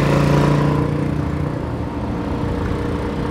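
A Dakar rally motorcycle engine runs steadily and close by, a continuous low droning hum with a tonal drone that eases slightly after the first second, with no talk over it.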